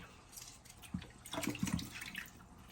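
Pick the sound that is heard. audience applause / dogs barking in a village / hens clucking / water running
water running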